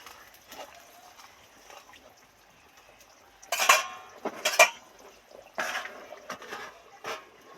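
Deep-fried okra is stirred into a pan of katla fish curry before it is covered: quiet utensil scrapes, then a few sharp metallic clinks and clatters in the middle, close by, with a low murmur beneath.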